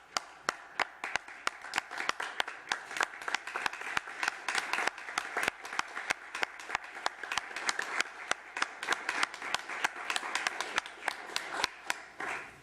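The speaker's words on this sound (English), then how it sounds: "we want to give you a standing applause." Standing applause from the audience at a city commission meeting, a dense sustained patter of many hands clapping steadily for about twelve seconds, moderately loud and close, with no talk over it.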